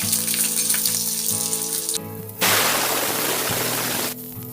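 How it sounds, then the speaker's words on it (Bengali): Chopped onions dropped into hot oil set off a loud, steady hiss of frying that swells suddenly midway and holds, close and continuous, after garlic was fried in the same oil for a jackfruit-seed mash. "আর এই তেলের মধ্যে আমি পেঁয়াজ কুচিগুলো দিয়ে দেবো ভাজার জন্য"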